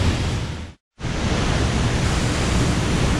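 Cascada La Paila waterfall in Florian, Colombia, a loud, steady roar of falling water heard close up, broken by one brief silent gap near the start.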